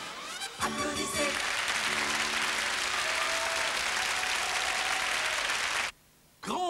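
Crowd applause from a 1985 Danone fruit dessert TV advert: sustained, loud, dense clapping under a brief voice, cutting off abruptly near the end before speech resumes.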